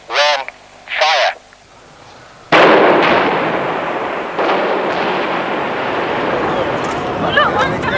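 Demolition blast at Poole power station: after two short horn-like tones, a sudden loud explosive boom erupts into a long sustained roar and rumble of collapsing structure, with distant voices and crowd noise underneath.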